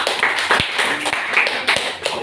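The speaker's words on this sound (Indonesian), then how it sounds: "berikan tepuk tangan di kelompok 3" Classroom applause for a student group, a brief burst of scattered hand claps and taps from several pupils, close and moderately loud.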